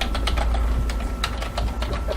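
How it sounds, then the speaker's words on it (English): Keys clatter on a Steelseries Apex gaming keyboard, a quick irregular run of close, crisp taps over faint background hum, with no speech. "I just typed away on a couple of buttons"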